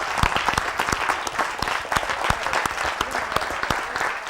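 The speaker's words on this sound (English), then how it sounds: "I appreciate y'all getting yourselves a hand clap" A church audience claps its hands for a contestant, a steady close burst of applause with sharp individual claps throughout.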